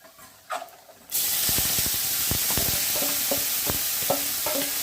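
Mixed vegetables and garlic hit a hot wok with a sudden loud sizzle, then a steady frying hiss continues, broken by rhythmic scraping and clanking of stirring close up.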